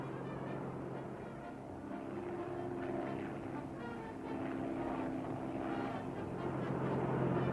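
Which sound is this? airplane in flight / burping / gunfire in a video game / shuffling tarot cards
airplane in flight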